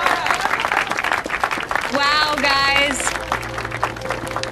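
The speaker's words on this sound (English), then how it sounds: "Give them a round of applause." Applause for fourth-place newcomers at a Christmas contest, scattered clapping mixed with lively talk and an exclaiming voice, plus a musical tone partway through.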